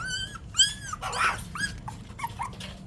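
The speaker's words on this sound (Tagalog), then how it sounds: "Ay, tahol ka ng tahol din ng pagkain oh." A puppy begs for food with a run of high, yelping barks and whiny whimpers, close and fairly loud, several short cries in quick, uneven succession.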